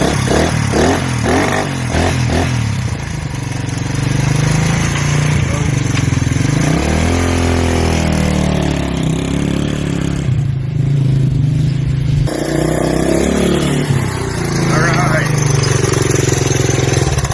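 A vintage motorcycle engine runs continuously nearby, loud and throaty, with throttle blips rising and falling over a steady idle; a voice speaks briefly over it.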